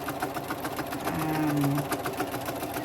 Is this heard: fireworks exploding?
no